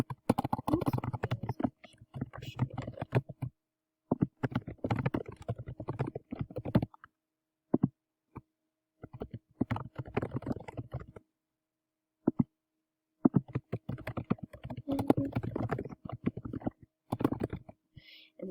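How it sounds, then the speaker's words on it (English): Fast clicky typing on a computer keyboard, in close uneven bursts broken by short pauses, faint whispery sounds in the gaps. "I'm going to type in my question here."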